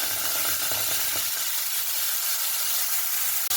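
Eggplant pieces dropped into very hot mustard oil, producing a loud, steady hissing sizzle that fills the clip, with a brief sharp break near the end.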